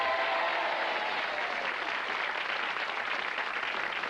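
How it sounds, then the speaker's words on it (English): Sustained applause from a large TV game show studio audience, a dense, steady wash of clapping that holds at an even level throughout without any voices. "Give them a big round of applause."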